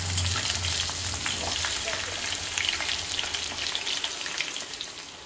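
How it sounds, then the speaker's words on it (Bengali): Raw green banana pieces frying in a pan with potatoes for a vegetarian curry, giving a steady, close, dense sizzle with small crackles and occasional stirring throughout. "কাঁচকলাগুলো দিয়ে একটু ভেজে নেব।"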